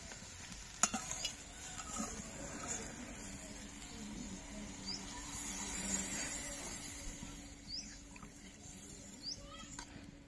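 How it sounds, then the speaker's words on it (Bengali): Water poured into a pan of browned country rooster curry, cooked with stone-ground spices and potatoes, gives a steady hissing stir and simmer throughout, with a few soft clinks near the start. "কষানো হয়ে গেছে, এবার জল দিয়ে দেবো।"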